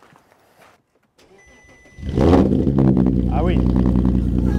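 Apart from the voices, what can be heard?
Porsche Cayenne engine starting with modified exhaust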